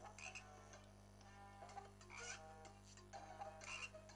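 Frog croaking in the video game Pekka Kana 2, a handful of short chirpy croaks in an irregular rhythm over a low steady hum, quiet and without speech.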